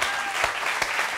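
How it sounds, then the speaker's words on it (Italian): Audience applause at a live comedy show, a steady, dense wash of clapping filling the whole stretch at even loudness, with no voices standing out. "Per favore, voglio un applauso per questo signore qua."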